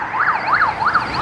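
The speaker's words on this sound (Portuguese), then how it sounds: "esperar a ambulância passar." Ambulance siren passing on a street in Copacabana, a loud wailing tone sweeping up and down in regular cycles, close and continuous.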